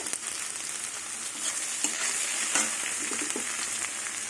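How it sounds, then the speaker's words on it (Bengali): Chopped onion, flat beans and potato fry in a pan over a gas flame, giving a continuous moderate sizzle with a few scraping stirs and small crackles, no talking. "কিছুক্ষণ ভেজে নেব নুনটা পরে দেবো পেঁয়াজ সিম আলু দেখুন ভাজা হয়ে গেছে"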